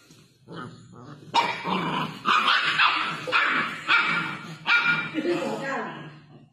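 A pet dog barks, yips and growls in a rapid string of loud, close bursts lasting several seconds.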